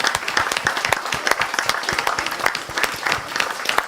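An audience at a municipal election debate applauding: dense, steady clapping from a sizable crowd, close and fairly loud, lasting throughout.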